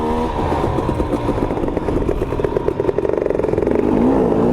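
Two-stroke engine of a KTM 250 XC dirt bike runs steadily while riding on a mountain trail, a loud continuous buzz with rapid throttle pulses and rising revs near the end, with light clatter throughout.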